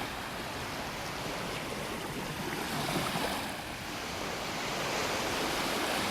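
Ocean surf rolls onto a beach in North Naples, Florida in the morning, a steady broad wash of breaking waves with some wind, continuous and fairly close, with no talking.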